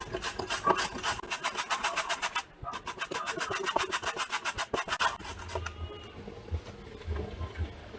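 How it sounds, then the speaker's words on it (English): Sweet gourd (kalbas dou) grated by hand for a salad: rapid rhythmic rasping strokes in quick bursts, close and crisp, pausing briefly and then tapering into lighter scraping. "And grate it inside."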